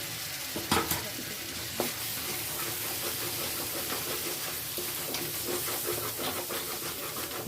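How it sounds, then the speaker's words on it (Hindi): Spiced jackfruit curry stirred and frying in a pan, a steady close sizzle with scraping spoon strokes and a few sharper clatters, no talking. "चिपकने नहीं देना है, इसे अच्छी तरह से चलाना है।"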